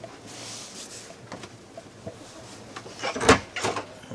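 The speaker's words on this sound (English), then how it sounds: "I'll just shut that door a minute." Washroom door of a Bailey Alicanto Faro caravan being shut, a soft thud and latch click near the end of a quiet interior moment, with faint handling knocks before it.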